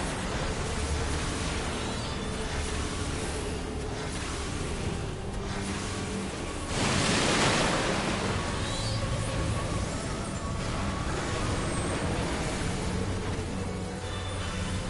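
Rushing water floods the arena in Final Fantasy XIV Endwalker's Pandaemonium, a steady broadband wash that swells briefly midway under constant game music and effects.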